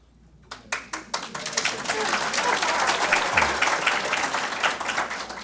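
An audience at a lecture breaks into applause, starting with a few scattered claps that quickly build into steady, sustained clapping from many hands.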